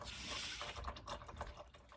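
Engine oil drains steadily from a 2012-2015 Honda Civic Si into a pan, a continuous watery trickle and patter close by, with no talking.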